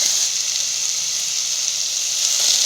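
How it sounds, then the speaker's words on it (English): Watermelon rind being stir-fried with tempered masala in a pan, giving a steady, close, bright sizzle that holds even throughout with no talking. "You have to stir fry it for a while, near about 5 minutes, not more than that."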